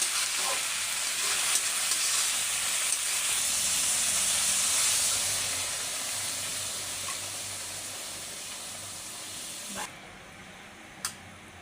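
Fish and potato curry simmers under a lid in a pan, giving a steady close hiss and bubbling sizzle that eases slightly, with a couple of faint clicks near the end.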